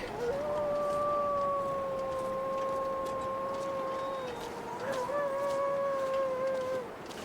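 Wolves in the survival video game The Long Dark howl at night, with long, steady, drawn-out howls that overlap and hold for several seconds over a constant background hiss.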